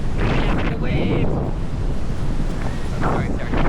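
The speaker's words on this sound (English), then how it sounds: "the waves" Ocean waves breaking on Baker Beach, a continuous loud wash of surf heavily buffeted by wind noise on the microphone, with a brief faint voice mixed in.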